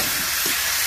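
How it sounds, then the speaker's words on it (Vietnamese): Pork belly hits a pan of caramel sauce and fries with a loud, dense, close sizzle that hisses continuously through a brief moment, with no voices. "Bây giờ mình bỏ thịt vô mình xào."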